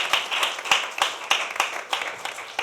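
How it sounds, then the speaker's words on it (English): A small audience claps at a poetry session, a sparse and fairly quiet round with distinct individual claps landing roughly every half second over a thin bed of softer clapping. "Let's give them a round of applause."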